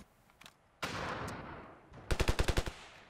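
Rapid automatic fire from a modded gun in the shooter game Ravenfield: a brief noisy blast and roar, then a quick, loud burst of about eight evenly spaced shots at the end.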